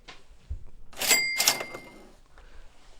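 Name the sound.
cash register sound effect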